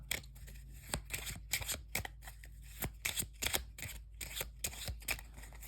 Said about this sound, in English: A nice little dirty shuffle. And the same here with the bottom deck.